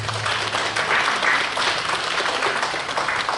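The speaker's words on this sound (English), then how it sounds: "Give him a big round of applause." An audience at an honoring ceremony breaks into dense, sustained applause that fills the room evenly from start to finish, with no voices over it.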